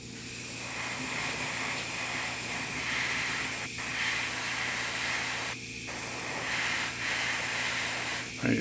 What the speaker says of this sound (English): All right, so I've got some clear red on my airbrush.